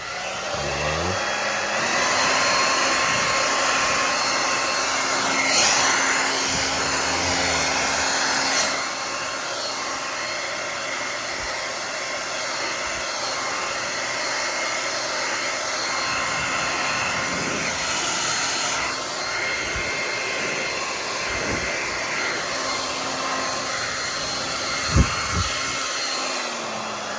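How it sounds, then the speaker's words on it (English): An ordinary hair dryer set to hot on its low setting, aimed at an Xbox One console, runs as a steady, loud whooshing hum for the whole stretch, with a few faint clicks and one sharp knock near the end. "get a hair dryer, any hair dryer, put it on hot, on low."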